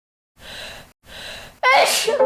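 Two quick inhaled breaths build up, then a single loud, sharp sneeze bursts out close by at the end.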